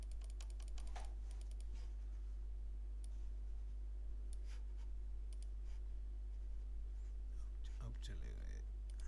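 Computer keyboard typing comes as scattered bursts of clicks over a steady low electrical hum, with sparse key taps and a mouse click near the end.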